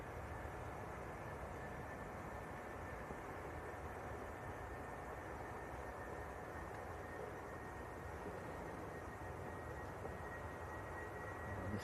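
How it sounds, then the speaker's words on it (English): A British Airways airliner on its takeoff roll at Manchester Airport, heard at a distance as a faint, steady roar of jet engines with a broad whoosh. "This is British Airways on the roll, going back down to London Heathrow."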